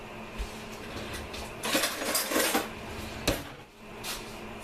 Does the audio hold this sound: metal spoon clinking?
yes